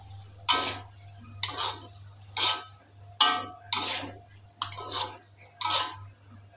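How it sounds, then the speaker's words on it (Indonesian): Eggplant and squid being stirred in a pan, with seven distinct clinking scrapes of a utensil against the pan at a roughly steady rhythm over a low constant hum. "kita masukkan terong dan cuminya. Kita aduk hingga merata."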